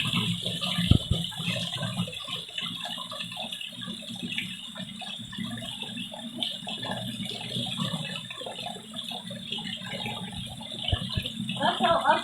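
River water flows beneath smooth stones in a cold natural stream, a steady close rushing and babbling wash that continues evenly throughout without pause.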